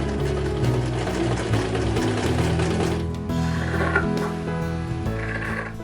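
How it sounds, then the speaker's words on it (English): A sewing machine stitches a fabric band onto the bottom hem of a costume, its steady mechanical whirring running continuously and fairly loud at close range, with no voices. "Because this is all the way at the bottom hem, I stitch it on by machine"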